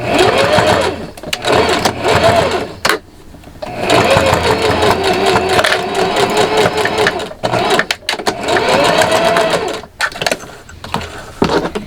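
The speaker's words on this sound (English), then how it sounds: "I'm just going to go ahead and stitch in the ditch on both side seams" A sewing machine stitches in the ditch along the side seams of silky pants fabric, running in long steady bursts with short pauses between, loud and close.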